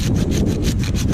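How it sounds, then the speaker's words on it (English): A hand saw cuts through a resinous pine branch still on the tree in a pine forest, with fast, loud, close rhythmic rasping strokes repeating about five or six times, alone. "Try it again, sawing off this branch"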